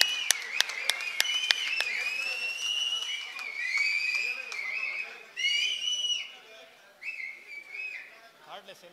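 Audience at a political rally clapping and whistling as an areca-nut turban is offered to Kumaraswamy, with sharp claps early on giving way to loud, shrill whistles over crowd noise.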